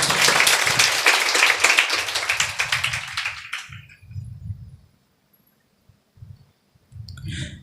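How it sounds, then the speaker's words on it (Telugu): Church congregation applause of many hands clapping together at close range, strong for about three seconds before thinning out, followed by a few scattered claps and low murmurs. "చప్పట్లు కొట్టు"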